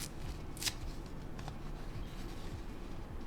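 Paper being torn by hand in a mixed media art journal, a close, soft crackling rip with a brief sharper burst near the start, alone without talk.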